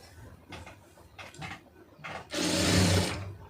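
Sewing machine stitching down a fold of cut cloth for a hem: a few short bursts of running stitches, then a louder sustained run of about a second, close by and alone.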